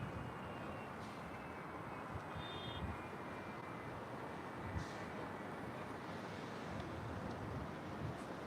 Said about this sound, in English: That is American Airlines Flight 788 coming in from Dallas, Fort Worth. It's a brand new Airbus A321neo.